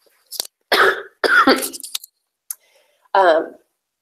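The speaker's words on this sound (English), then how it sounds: "I need to cough" A few harsh coughs close to the microphone, separated by short pauses, ending with a throat-clearing burst.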